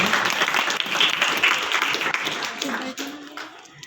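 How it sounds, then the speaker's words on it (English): Audience applause at a school farewell party, a dense wash of clapping that tapers off, with voices talking over it and a brief tonal sound near the end. "Please give a round of applause."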